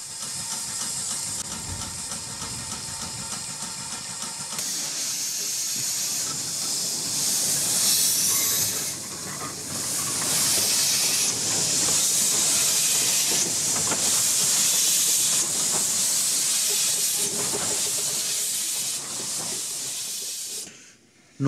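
A steady, loud hiss of escaping steam from an 1894 Heywood tender locomotive, rebuilt in 1927, on a narrow-gauge railway, with rumbling train noise underneath and shifting surges throughout.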